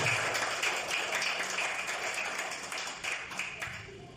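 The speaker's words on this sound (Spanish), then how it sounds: "Dele un fuerte aplauso al Rey de Reyes y Señor de Señores." A church congregation applauds the King of Kings, a steady wash of many hands clapping at moderate level with scattered sharper claps, continuing throughout.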